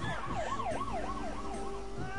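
A police car siren from the video game Tasty Planet wails in a steady rising-and-falling cycle, several sweeps in a row, loud and close over busy game background sound, with no talking.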